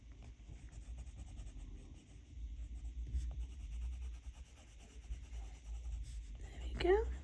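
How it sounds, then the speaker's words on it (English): A Polychromos colored pencil drawing lightly on paper gives a soft, close, continuous scratchy rubbing with faint strokes, over a low background hum, ending in a brief sharper scrape. "I'm just lightly going into that area with this pencil."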